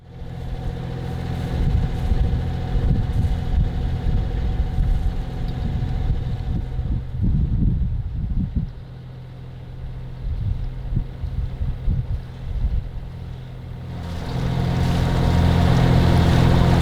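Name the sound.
sailboat engine started, motoring out of harbour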